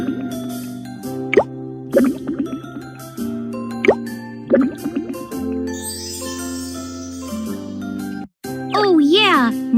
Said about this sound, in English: Now pour them into the mold.